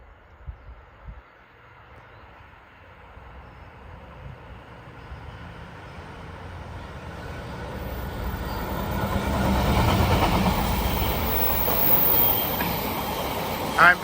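A freight train passes at Doehill near Alfreton. A distant rumble slowly builds into a loud, continuous roar of rolling wagons, with a brief high squeal near the end.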